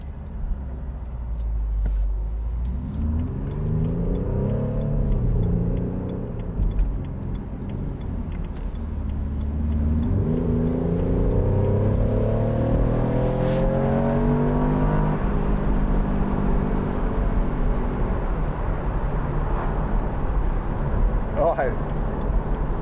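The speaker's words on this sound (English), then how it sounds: "I might put it in neutral here and give it a few revs." A 2014 BMW Z4 sDrive28i M Sport engine revs up and down repeatedly in neutral, rising and falling in pitch, with someone talking over it and traffic noise around.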